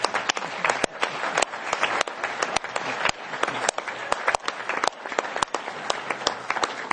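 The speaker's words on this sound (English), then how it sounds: "A big applause." An indoor audience at an annual report event claps steadily, a dense, continuous patter of many hands at moderate loudness with a few sharper individual claps standing out.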